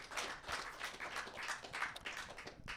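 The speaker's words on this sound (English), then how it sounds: "how about a round of applause for the guy who opened the show?" A comedy podcast audience applauds the opening comedian, a quiet, dense patter of many hands clapping steadily from a distance.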